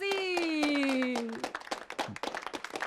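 A sustained sung or cheering voice gives way to a crowd clapping, scattered applause continuing steadily at moderate volume.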